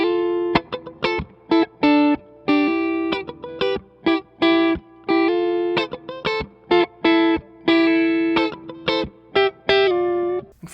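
A distorted electric guitar plays a repeating embellished riff in short, punchy bursts with brief gaps between phrases, moving through several chords and closing on a turnaround, loud and close with no talking.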